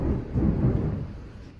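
Deep rolling thunder from a storm outside, a low sustained rumble that swells and slowly fades, heard alone with no talk.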